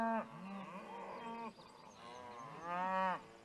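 Cattle being moved on horseback give two drawn-out moos, one long and one shorter, fairly near but not loud, with a quiet pause between them.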